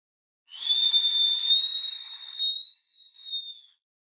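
An eerie, steady whistle in a horror story, a single pure high tone that starts abruptly, holds almost flat, rises slightly near the end and then fades, clear and isolated against silence.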